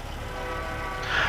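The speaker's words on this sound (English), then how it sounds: "Here comes the train." A train passes in the American Truck Simulator video game, its horn sounding as a steady, sustained tone over a continuous rumble that swells slightly louder toward the end.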